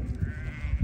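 A thin, wavering bleat from a sheep, heard once up close and fairly quiet, with no talk over it.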